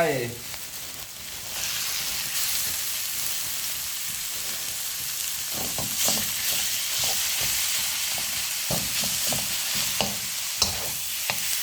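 Minced pork for Thai basil pork sizzles hard in a hot pan, a loud steady hiss broken by scraping, clacking spatula strokes that quicken in the second half.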